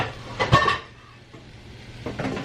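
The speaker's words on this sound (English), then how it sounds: "So let me see if I can get my pan out for my pot stickers." A frying pan is pulled out in a home kitchen before cooking pot stickers, bringing one loud clank and metallic rattle up close, then quieter shuffling and a few faint knocks.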